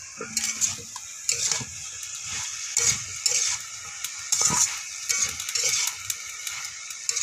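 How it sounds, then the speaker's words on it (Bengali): Vegetable curry being stirred in a pot after the lid comes off, a near series of scraping, clinking spoon-on-metal strokes in an uneven rhythm over a faint sizzle, with no talking. "আরও একবার ঢাকনা খুলে তরকারিটা নাড়িয়ে দেবো।"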